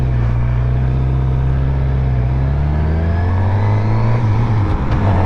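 Motorcycle accelerating along a quiet neighborhood back road, engine note climbing steadily through a gear change, loud and close with a continuous droning rumble and no talking.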